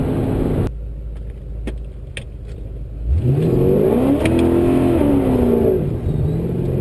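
A Whipple-supercharged VE Maloo ute on a road test, engine rising from a low idle rumble into a loud, strong acceleration whose pitch climbs and holds steady, heard up close without speech.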